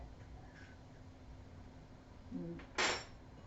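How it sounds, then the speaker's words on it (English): An egg cracked against a hard edge for gluten-free oatmeal raisin cookie dough: a soft knock followed by one sharp, close crack, faint and alone in a quiet kitchen. "I crack my egg with like that."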